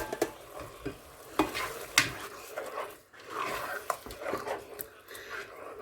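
Minced meat fries in a pan for a vermicelli soup, a soft sizzle under repeated scraping and stirring of a utensil against the pan, close up.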